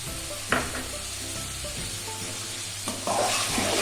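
Mutton liver (kaleji) fries in hot oil in a pan, sizzling continuously while being stirred, with a few sharp clinks of the spoon against the pan.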